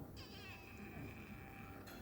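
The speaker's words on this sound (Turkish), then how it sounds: "Kedi var bu arada." A cat gives one long, drawn-out meow that rises and then holds steady for nearly two seconds, close by against a quiet background.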